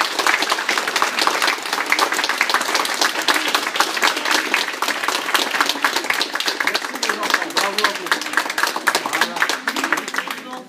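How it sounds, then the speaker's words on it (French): An audience at an art exhibition opening applauds the children, with brisk, dense clapping that continues steadily and loudly, while a voice may be faintly present underneath. "j'ai envie que vous les applaudissiez"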